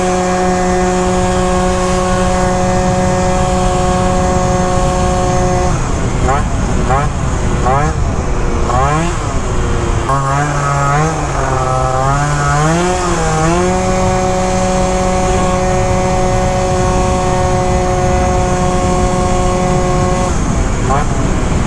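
A tuned Yamaha Zuma BWS scooter fitted with a Phantom F12 engine revs hard, holding a loud, buzzing high-pitched drone, with rising and falling sweeps through the middle as the throttle changes.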